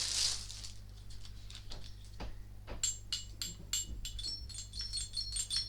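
A metal object is tapped and struck several times, the later hits leaving a thin, high ringing tone over soft background clatter.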